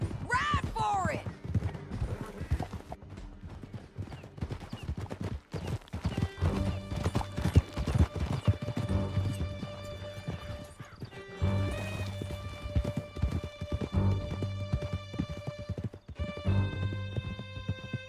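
Horses gallop in the video game Red Dead Redemption 2, with rapid rhythmic hoofbeats throughout and occasional neighs, mixed with sustained musical tones and voices talking.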